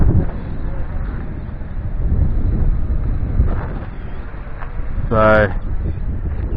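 Steady wind buffets an outdoor microphone during a flight of an Amcrest SkyView Pro drone, a loud continuous low rumble throughout, with someone briefly speaking near the end.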